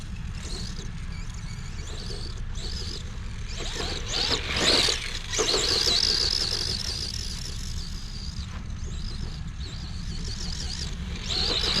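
Tamiya Hornet EVO RC car with a sport tune motor driving over dusty ground and grass, a steady whining motor with bursts of acceleration and scrabbling tires, loudest midway through.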